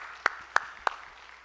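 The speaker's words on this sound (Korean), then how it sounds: "박수 한번 합시다 우리." Three slow, evenly spaced hand claps from a church congregation applauding, crisp and fairly close against a quiet room.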